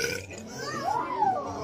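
A single loud, drawn-out burp from a person in a classroom, close and clear, with a rising and falling croaky tone lasting about a second over faint room noise.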